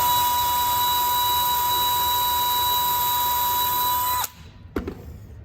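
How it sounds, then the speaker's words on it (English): A power drill driving screws into a planter build whirs steadily at close range for about four seconds, then cuts off, followed by a short clunk. "I'm gonna have to drill it while I hold it."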